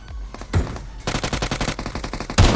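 Rapid automatic gunfire in PUBG Mobile on a Bedwars map, loud bursts of close shots rattling in quick rhythm with a short pause between volleys.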